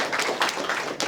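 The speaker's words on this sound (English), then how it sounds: "Big round of applause." Brief, uneven clapping from an audience at an AI ethics conference in India, a short spatter of hand claps in loose bursts rather than a full roar, close and moderately loud.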